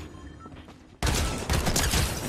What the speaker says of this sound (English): Burst SMG is crazy